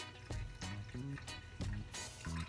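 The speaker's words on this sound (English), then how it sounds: "I'm just going to strain that into the gallon of water" Lemon ginger liquid strained into a gallon jug of water, heard as quiet, uneven splashes and gurgling pours. The liquid comes in several short bursts, faint and close, with no voices.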